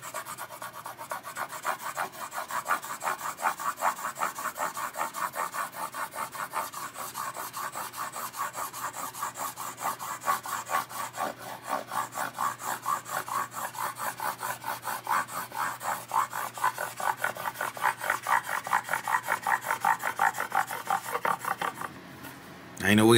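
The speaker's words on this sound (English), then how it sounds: "Polish them up real good." Rapid, repeated rubbing strokes of polishing metal frets on a Gibson SG guitar fretboard during a restoration. The rhythm is steady and close-up, ending in a sudden bump.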